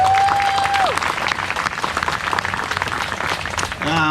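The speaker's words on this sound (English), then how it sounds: "Give them a round of applause." Audience applause at the Sacramento Valley Live Steamers 50-year ceremony, a dense, steady clapping close by that fills the clip, with a brief sustained tone at the start before it fades.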